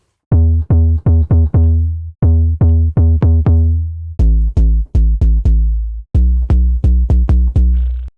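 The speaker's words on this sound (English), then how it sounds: "Let's add some distortion with Macro 2." An Afro house synth bass with added distortion pumps out short, punchy notes in quick rhythmic groups, gritty and buzzy with brighter overtones, loud and alone, the pattern stepping through a few pitches.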